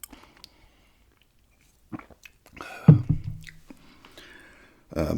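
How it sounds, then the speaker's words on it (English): Crunchy potato chips being bitten and chewed close to the mic, with a few quiet crunches followed by louder chewing bursts and soft mouth sounds between them. "if you guys like me doing it this way, maybe eating some chips, drinking a beer or something"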